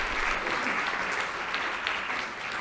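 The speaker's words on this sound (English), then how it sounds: "let's give a big round of applause for our panelists" An audience at a marijuana research symposium applauds the panelists, a sustained, even roar of many hands filling the room, loud and continuous, fading slightly at the end.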